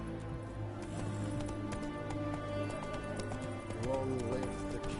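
Roach the horse galloping in The Witcher 3, rapid rhythmic clip-clop hoofbeats running steadily throughout, close and prominent over game music and ambience.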